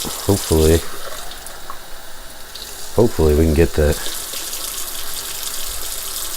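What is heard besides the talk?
pouring excess water out of jar of tomato seeds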